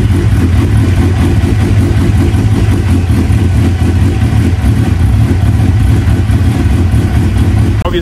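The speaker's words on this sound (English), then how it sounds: "it does not sound good at all. And there's lots of black smoke coming out of here." A Suzuki GSX-R 750 motorcycle, far from stock, with a straight pipe exhaust and running badly while blowing black smoke. Its engine drones loudly and continuously up close with a rough, pulsing idle throughout.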